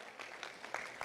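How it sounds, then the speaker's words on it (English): An audience at a meditation summit claps in a short burst, the scattered hand claps sounding fairly faint and somewhat distant, with irregular sharper claps standing out. "Big round of applause."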